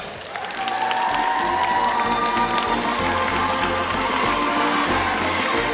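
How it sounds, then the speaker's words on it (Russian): Audience applause for contestants at the Mister KPI 2013 pageant, a steady wash of clapping that swells in and holds evenly, with music-like tones faintly beneath. "Ваши бурные аплодисменты все восьмерки участников"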